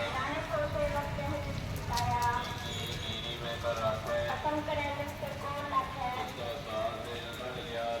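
Rain falls steadily outdoors as a dense, even patter with scattered louder drips. It continues without a break throughout.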